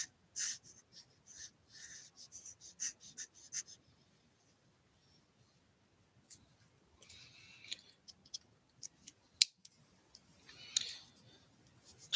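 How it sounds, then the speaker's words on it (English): Scissors snip through printed paper poinsettias in a run of quick, close, quiet cuts, then a pause and a few more clipped snips and paper rustles. "I have some poinsettias that I could just print out, cut out like that."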